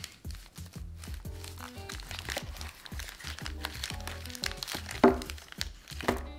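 A plastic bag holding individually wrapped dice from a tabletop game collector's edition rustles and crinkles close up, with dense irregular crackles and a sharper snap near the end.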